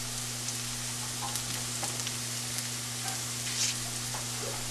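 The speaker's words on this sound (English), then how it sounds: "Saute it again and remove the raw smell of these masalas." Turmeric powder and spice masalas sautéing in a hot pan, a steady close sizzle and crackle with faint stirring scrapes and a low steady hum beneath.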